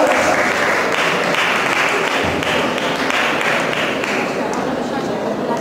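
Loud, continuous applause from a school audience welcoming graduating students at a farewell ceremony, steady clapping with crowd noise and some cheering voices underneath.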